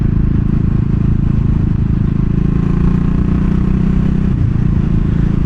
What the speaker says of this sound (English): That is a lovely gear change.